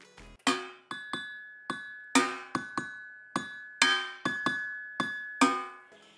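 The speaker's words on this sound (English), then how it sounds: "the metal and glass drums will create high pitches" Metal and glass drums struck one at a time, about a dozen bright ringing high-pitched hits with clear sustained tones, each decaying before the next, played close and loud.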